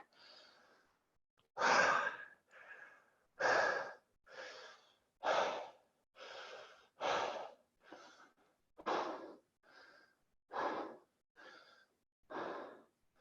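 Slow, deep breaths during a yoga session: a steady series of long, airy inhales and exhales in an even rhythm, close and fairly soft, with no talking.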